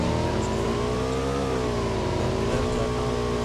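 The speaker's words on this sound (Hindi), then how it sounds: "उसके बाद मैं गाड़ी उठाता हूँ," Car engine in the video game PUBG, a steady droning motor with gently shifting pitch as the vehicle drives, loud and continuous with no talk over it.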